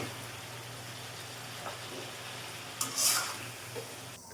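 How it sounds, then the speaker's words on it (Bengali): Pumpkin pieces go into a pan of cooked-down spice paste, a faint low sizzle with a brief louder hiss and clatter near the end, no talking. "এখন আমি মিষ্টি কুমড়াটা দিয়ে দিব এখন এখানে।"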